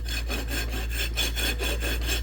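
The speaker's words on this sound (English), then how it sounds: "We're filing out this groove." A rasp files a groove in a Subaru Impreza brake bracket, cutting metal in quick, regular back-and-forth strokes, about nine rasping passes close up, loud over a low background hum.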